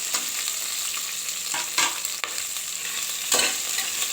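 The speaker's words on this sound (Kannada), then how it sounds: "ಸ್ವಲ್ಪ ಈರುಳ್ಳಿ ಚೆನ್ನಾಗಿ ಫ್ರೈ ಆಗಲಿ." Onions frying with garlic and ginger in a pan for drumstick leaf pulao, a steady close sizzle with occasional stirring scrapes breaking through, no voices.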